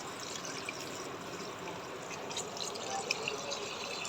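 Water trickles and splashes steadily into a machine used for mixing duck feed, a continuous, even wash of running liquid with a few small drip accents, fairly close and without voices.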